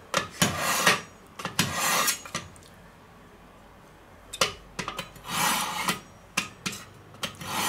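A knife drawn repeatedly across a sharpener, giving raspy scraping strokes in quick bursts separated by short pauses, close and fairly clear.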